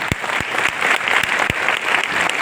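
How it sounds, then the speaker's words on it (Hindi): Dense, even applause from a large audience at an honouring ceremony, filling the moment with a steady wash of clapping and a few sharper, louder claps standing out near the front. "जोरदार तालियाँ।"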